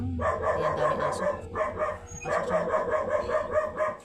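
Several dogs bark and yip together in repeated overlapping bursts, fairly close and loud, with brief pauses between flurries and a low voice under them.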